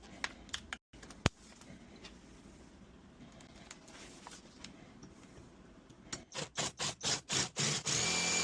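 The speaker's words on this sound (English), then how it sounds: "Green screw straight into the plug and see what happens." A power drill drives a screw into an old lock cylinder plug with a plug puller, whirring in a rapid run of short bursts near the end after several seconds of faint clicks and handling noise.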